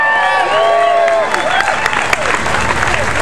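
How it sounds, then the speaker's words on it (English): A crowd applauds loudly and steadily, with scattered cheers and whoops rising over the dense clapping throughout. "Let's have a round of applause for Megan Mullally."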